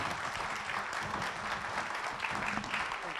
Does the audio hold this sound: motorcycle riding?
no